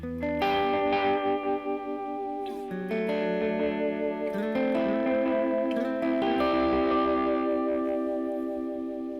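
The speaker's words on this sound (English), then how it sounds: "Just a straight pitch vibrato." Sustained electric guitar notes and chords run through a wavering pitch effect that gives a warbling, slightly detuned shimmer, with no talking.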